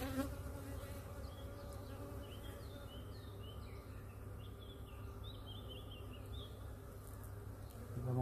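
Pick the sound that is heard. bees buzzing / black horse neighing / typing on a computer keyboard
bees buzzing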